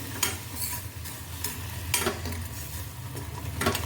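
Roasted peanut and sesame powder is stirred into a thick melted jaggery mixture in a pan, with steady scraping strokes and a low bubbling sizzle underneath, heard close up with no talking.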